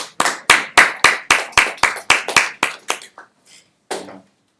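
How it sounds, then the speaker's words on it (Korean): A small group claps in distinct, fairly quick strokes for about three seconds, close and loud, then trails off into a few scattered claps as a cheer-like burst fades. "박수로."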